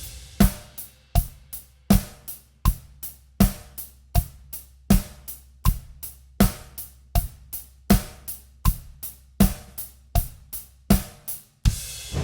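A steady drum beat with regular hits and bright eighth-note hi-hat ticks, repeating evenly and close, with no talking.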